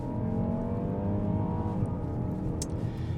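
A Range Rover plug-in hybrid of 400 horsepower accelerates hard at full throttle, its steady engine and drivetrain roar holding loud and close throughout with a rising whir.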